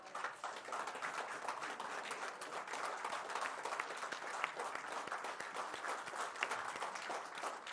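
A standing audience at a speech event gives the Chief Minister sustained applause, a steady, dense wash of many hands clapping that stays even throughout, heard from some distance.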